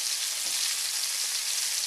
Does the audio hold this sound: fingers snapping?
no